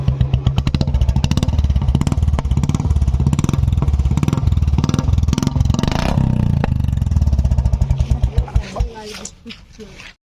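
Royal Enfield Classic 350 engine fitted with a new short bottle silencer exhaust, idling close by with a rapid, steady thumping beat, then a quick rev and the engine shutting off as the pulses slow and fade.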